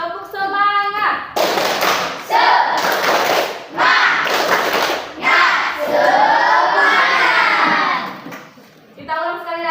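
Indonesian schoolchildren in a classroom perform a tepuk semangat clapping chant, with loud, rhythmic bursts of group claps and thumps mixed with shouted young voices. It runs in several strong blocks, and a teacher's voice is heard briefly before and after.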